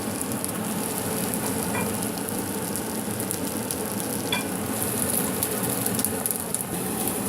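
Garlic and sweet pepper fry in a pan for Trini chilli chicken, a dense, steady sizzle crackling close and loud throughout, with a couple of faint utensil clicks and no talking.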